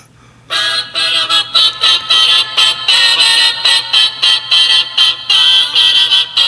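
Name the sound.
song playing from a phone speaker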